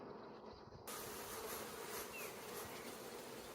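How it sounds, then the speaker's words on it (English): A swarm of honeybees at a hive: a steady, dense buzzing that fills the whole clip, close and continuous, with no voices. "You can see the bees are bringing in pollen"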